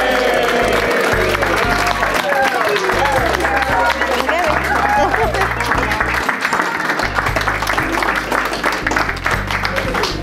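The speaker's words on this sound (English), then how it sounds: "please join with me in giving a big round of applause to the new Mr. and Mrs. Hutchinson" Guests applauding newlyweds at a wedding ceremony, continuous clapping mixed with cheering voices and crowd chatter, loud and sustained throughout, with music or a low hum pulsing underneath.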